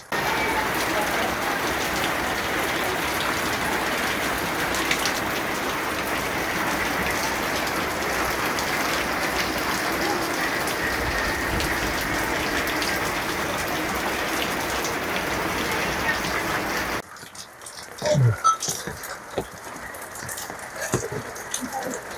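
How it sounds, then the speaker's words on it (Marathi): Heavy unseasonal rain pours steadily on a poor, leaking house in Maharashtra, a dense, even hiss of drops for most of the stretch, then turning into scattered, louder nearby drips and splashes near the end. "पाऊस चालू आहे."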